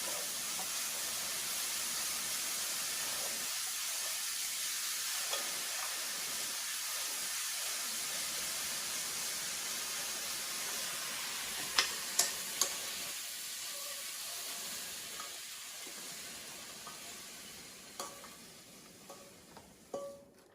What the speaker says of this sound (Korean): 건취나물도 볶아서 완성해 주었습니다